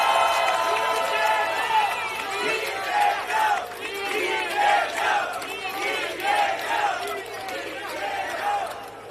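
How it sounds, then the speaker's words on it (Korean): A large crowd at a Democratic Party election campaign launch rally roars and shouts in loud, sustained waves of cheering with applause mixed in, rising and falling in repeated surges throughout. "여러분 힘찬 박수 함성을 부탁드립니다"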